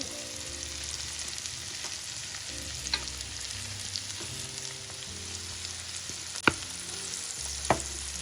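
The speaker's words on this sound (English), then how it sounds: "In goes the onion, a little bit of the green onion" Onion and green onion fry in a pan with a soft, steady sizzle and occasional clinks of a utensil, faint and close, without voices.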